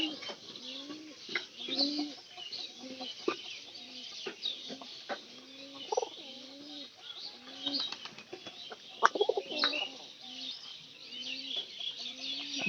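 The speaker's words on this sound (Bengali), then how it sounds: "আমার বন্ধুর মধ্যে সবচেয়ে বেশি ডাক পারে এই পায়রাটা" A pigeon coos over and over, a repeated low, rolling call in a steady rhythm close by, with brief wing flutters and other birds in the loft around it.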